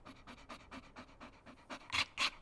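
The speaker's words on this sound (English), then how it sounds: "we're gonna be using the sound from the dog whimpering" A dog whimpering and panting in quick, rhythmic breaths, used as a horror film sound effect; close and fairly soft, with two sharper, louder whines near the end.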